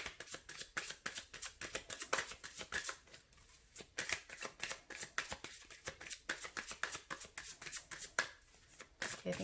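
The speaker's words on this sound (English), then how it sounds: "I think I'll cut the deck." A tarot card deck is shuffled and cut by hand, giving a long run of quick, close papery riffles and flicks with brief pauses and no talk.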